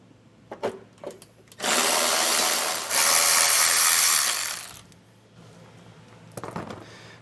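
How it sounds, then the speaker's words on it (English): A ratchet tool loosens the bumper beam bolts on a 2016 Toyota Prius, with two long bursts of fast clicking close up separated by a short pause and a few quieter handling knocks around them. "we're just going to take loose these 4 bolts on the bumper beam here"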